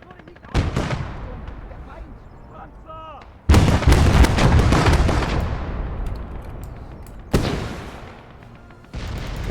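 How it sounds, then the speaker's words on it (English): THOR artillery fires in a video game: several heavy, close booms with long rumbling decays, the blasts spaced a few seconds apart over a quieter battlefield background. "that THOR's about to fire again"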